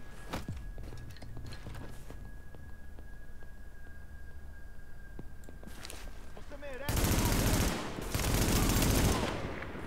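Gunfire in the video game The Division crackles in bursts amid faint footsteps and clatter, then swells into two loud, dense volleys near the end of the clip.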